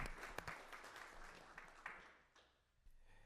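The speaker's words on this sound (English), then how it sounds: "let's give them a round of applause" A school board meeting audience claps for student artists, dense close clapping that fades over a few seconds with some louder individual claps.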